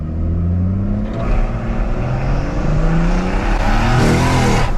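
A big-turbo BMW M140i accelerates hard on a night drive, the engine note climbing steadily in pitch as it pulls through the rev range, loud and close with a rising roar near the end and no talking.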